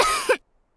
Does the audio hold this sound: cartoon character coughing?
yes